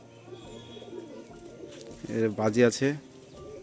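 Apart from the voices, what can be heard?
pigeons cooing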